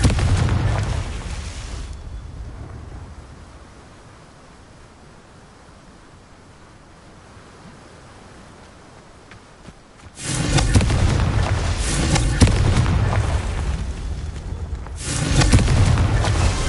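Confringo blasting spells explode in the video game Hogwarts Legacy: a loud, roaring burst opens the clip, then after a quieter stretch a sustained, heavy rumble of blasts returns and swells again near the end.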